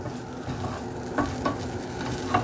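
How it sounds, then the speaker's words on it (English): Chorizo and eggs being stirred in a pan with a low, continuous sizzle, a few soft utensil scrapes standing out near and clear. "Give that one final little stir."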